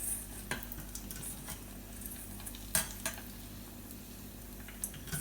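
Arancini fry in hot oil with a soft steady sizzle, broken by a few light utensil clinks and scrapes against the pan.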